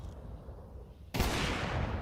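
Gunfire erupts suddenly in a Counter-Strike 2 match after a quiet stretch, a loud burst of blind shooting that carries on steadily to the end with no voices.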